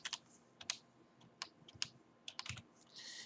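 Keystrokes on a computer keyboard while an email address is entered, a string of quick close clicks in uneven bursts with short pauses between them.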